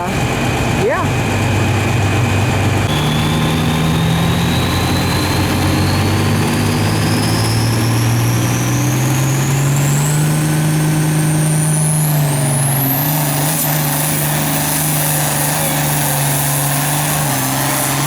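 A pulling tractor's loud, roaring engine revs and climbs steadily in pitch at a truck and tractor pull, droning continuously throughout with a heavy low rumble.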